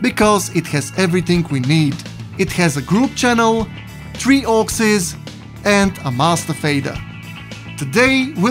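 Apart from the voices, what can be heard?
No distinct noise like a dog, phone or traffic.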